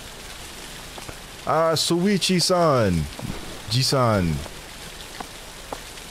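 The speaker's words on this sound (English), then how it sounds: "the rain got extra loud when I came in the house" Steady rain in a video game pours over a house, a dense constant hiss running throughout, with someone talking over it partway through.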